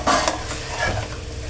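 Fried cauliflower being stirred into Gobi Manchurian masala in a pan, with a close, steady sizzle, a clank of utensil against the pan near the start and continuous scraping and stirring, and no talk.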